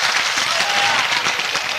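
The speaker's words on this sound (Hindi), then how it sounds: "जोरदार तालियां बजा करके स्वागत करें आप अपना।" Warm applause from the audience at a live kavi sammelan poetry gathering in Indore, a dense, steady wash of many hands clapping together, loud and continuous throughout.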